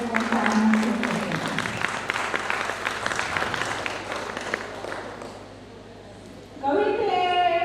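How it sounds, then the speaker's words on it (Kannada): An audience at a taluk-level Kannada literary conference applauds young child poets with steady, loud clapping that fades away before a voice briefly starts up at the end. "ಈ ಪುಟಾಣಿ ಕವಿಗಳಿಗೋಸ್ಕರ ನೀವೆಲ್ಲ ಜೋರಾಗಿ ಚಪ್ಪಾಳೆ ಕಟ್ಟಬೇಕು ಅಂತ ಅನಿಸುತ್ತೆ"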